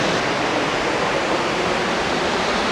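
Mist Falls waterfall in Kings Canyon National Park, close by and loud, a steady, dense rushing roar that holds without a break and no voices over it.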